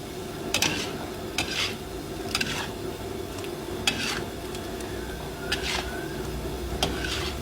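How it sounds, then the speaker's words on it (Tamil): A spatula scrapes and clatters through a fry in a metal pan, in sharp strokes about every second or so over a steady low sizzle and background hum. "நல்லா கிளறி நல்லா கிளறி விடுங்க"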